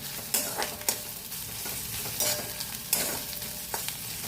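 Grated coconut frying in a pan, a soft continuous sizzle broken by repeated scraping strokes of a spatula at an irregular rhythm, close and moderately loud.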